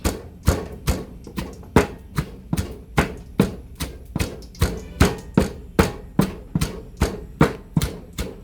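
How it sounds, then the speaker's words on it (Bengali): Onions being scraped by hand while preparing broiler chicken jhura: a steady run of about seventeen close, evenly spaced strokes, each a crisp scrape ending in a dull knock, with no talking. "পেঁয়াজগুলো চেঁচে নিচ্ছি"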